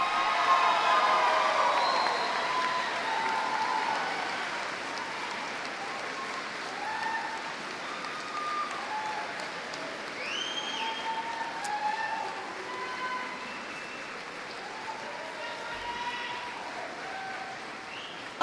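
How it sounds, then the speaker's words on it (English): Sustained applause from the audience for graduates at a 2023 college commencement ceremony fills the hall. It sounds as a steady wash of clapping throughout, with faint crowd murmur and a few scattered voices over it. "Would you please applaud our graduates?"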